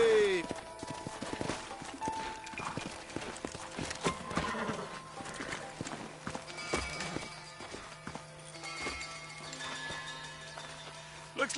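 Horses' hooves clip-clop on the ground in the Western video game Red Dead, uneven steps with occasional whinnies, mixed with background game sounds and some talking.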